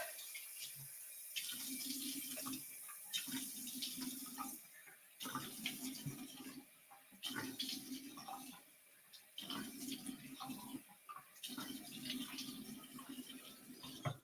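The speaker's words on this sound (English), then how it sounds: "I rinse that off as well. I use lukewarm water and I pat dry my skin." Lukewarm tap water splashing as a face is rinsed during an evening skincare routine, coming in repeated bursts of running and splashing with brief quiet gaps between them.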